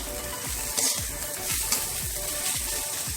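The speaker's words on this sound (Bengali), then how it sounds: "মশলাটা খুব ভালো করে কষিয়ে নিতে হবে।" Spices with salt and cumin powder frying in a pan, a steady close sizzle with rhythmic stirring scrapes, no talk.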